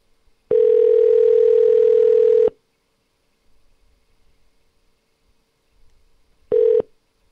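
Telephone dial tone on a radio call-in show, a steady loud tone holding for about two seconds, then quiet line noise, then a second short burst of tone.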